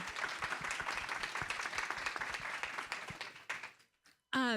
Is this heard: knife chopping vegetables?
no